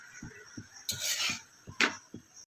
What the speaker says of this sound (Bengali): আমি যখন এই পরোটা টরোটা করি তখন এই খুন্তিটা ব্যবহার করি